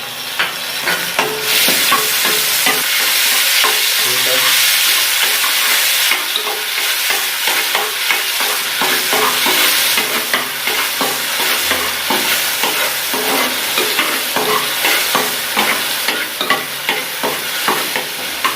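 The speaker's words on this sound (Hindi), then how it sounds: "जब थोड़ा सा घी थोड़ा गर्म हो जाएगा तो फिर हमने लहसुन की पेस्ट डालनी है इसके।" Garlic paste sizzling steadily in hot ghee in a commercial kitchen pan, a dense continuous frying hiss with occasional stirring scrapes, loud and close, no talking.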